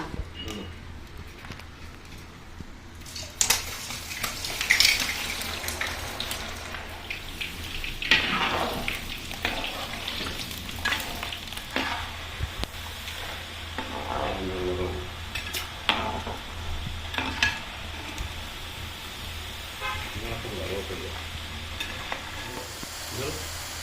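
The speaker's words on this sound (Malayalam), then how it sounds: "ഇനി നമുക്ക് എണ്ണ ചൂടായിട്ട് വരുമ്പോൾ അതിൽ നമുക്ക് അതിനെ വറുത്തെടുക്കാം" Plantain pieces fry in hot oil in an uruli, a bright close sizzle with bursts of bubbling and repeated stirring scrapes and clinks of a ladle against the vessel.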